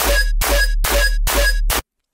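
Bass synth processed through OTT compression and a soft-clip saturator plays five even, punchy notes with a thick low end and gritty upper harmonics, loud and alone, ending abruptly in silence.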